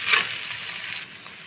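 Chopped onion and garlic hiss in hot soybean oil in a pan, a brief, bright sizzle that fades slightly after a second.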